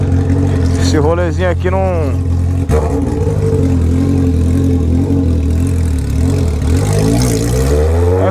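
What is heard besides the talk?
Honda Hornet motorcycle with straight pipe revving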